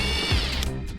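A T50 Torx driver backing out a hinge nut on a Jeep JLU/JT, a close, steady mechanical whir lasting about a second with no talking.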